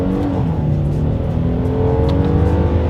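A 2021 Hyundai Palisade SUV pulls hard in first gear, its engine note climbing loud and close in a short, steady surge of revs.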